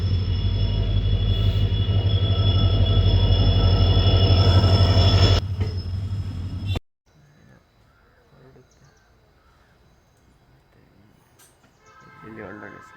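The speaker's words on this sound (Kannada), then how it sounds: "ಬಂದು ಟಿಕೆಟ್ ತಗೊಂಡು ಈಗ ಟ್ರೈನ್ ಬರುತ್ತೆ" A train pulls into Mysuru railway station with a loud, sustained rumble and squealing wheels, which cut off abruptly and give way to quiet platform ambience with faint voices.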